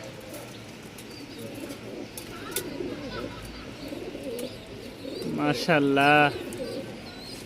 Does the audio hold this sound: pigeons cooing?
yes